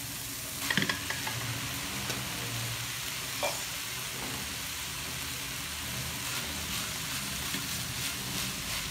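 Rice stir-fried with fermented pork sausage and pickled vegetables in a pan, a steady sizzle with scraping and clinking of the spatula against the metal, close and continuous.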